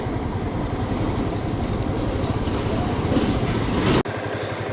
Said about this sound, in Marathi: कोकण रेल्वे चालली आहे.